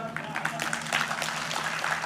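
Audience applause at the Bigg Boss OTT Season 3 launch event, a steady, dense clapping from a crowd lasting about two seconds, with a faint voice mixed in.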